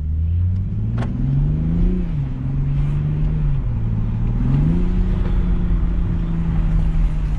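A new Toyota Supra engine revs loudly and steadily, its low pitch rising and falling through several throttle swells over a continuous close drone, with no voices.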